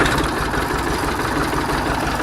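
A tractor engine idles close by before box-blading a driveway, a loud, steady, low rumble with an even mechanical throb throughout and no voices.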